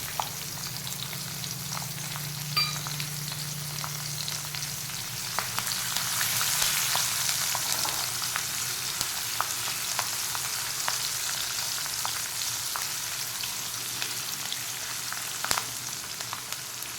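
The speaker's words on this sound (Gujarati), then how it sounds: "અને જીરું અને હિંગ તતડે એટલે આપણે આ લસણ છે જે એડ કરી દઈશું અને આ લીલા મરચાં છે એ પણ અંદર એડ કરી દેવાના" Garlic and green chillies fry in hot oil with crackling cumin and asafoetida for a kankoda (spiny gourd) curry. A steady, close sizzle carries scattered sharp pops and crackles for about seventeen seconds.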